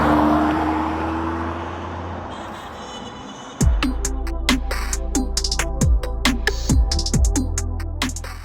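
A right-hand-drive Jaguar XJ220 sports car on the road: a low wind-and-engine rush for the first few seconds, then a loud, close engine with repeated sharp revs and gear-change bursts, no talk.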